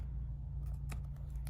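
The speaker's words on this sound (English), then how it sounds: "I'm just gonna trim the edges. If you have small scissors, I would use those" Large scissors snip the edges of vellum paper in a few quick, close crisp cuts over a low steady hum, with no talking.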